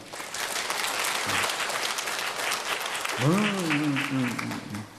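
A church congregation applauds during a Korean sermon, sustained broadband clapping throughout, with a voice speaking over the applause partway through.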